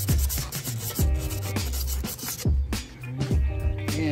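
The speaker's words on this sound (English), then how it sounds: "So you want to sand this here all the way around. Get it as clean as you can." Sandpaper rubbed by hand over a part of a Husqvarna 775 lawn mower during restoration, a close series of rhythmic rasping back-and-forth strokes, roughly two per second, with no talking.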